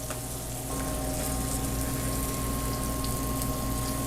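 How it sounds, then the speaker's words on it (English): Radishes fry in a pan with a pinch of salt, giving a loud, continuous close-up sizzle that stays dense and even throughout, with no talking. "Look at the sizzle."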